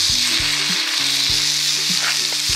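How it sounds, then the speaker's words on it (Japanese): Jerk chicken frying in olive oil in a pan at a campsite, a loud, steady close-up sizzle with crackling spatters and a few soft clinks of utensils against the pan, no voices. "オリーブオイルを引きましてと焼いていきます"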